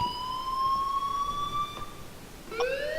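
A wailing electronic alarm sounding in the Life Is Strange video game, its steady tones sliding slowly upward before a second rising sweep cuts in near the end, loud and continuous with no talking.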